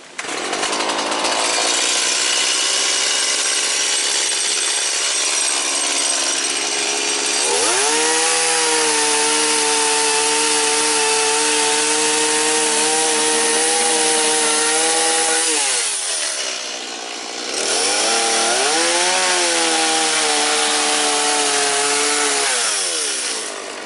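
Woodmizer LT15 sawmill cutting through a cracked piece of wood, a loud, close, steady engine whine with a sawing drone that dips briefly and then resumes, with no talk.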